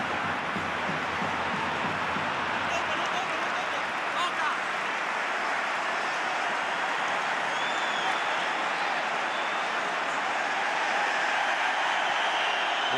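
Dense stadium crowd noise from a Real Madrid versus Barcelona El Clásico match, a steady roar with rising surges throughout, loud and continuous with no clear gaps.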